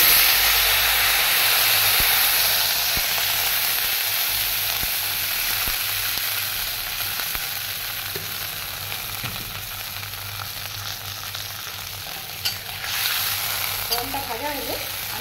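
Water poured into a hot pan while cooking tel potol bursts into a loud, close sizzle and steaming hiss that holds steady, easing slightly toward the end as stirring clinks come through.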